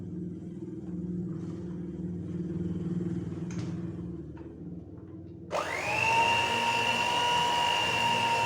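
An electric mixer switches on at low speed to combine Neapolitan bundt cake batter, a steady whining hum starting abruptly after a quieter stretch of low background rumble.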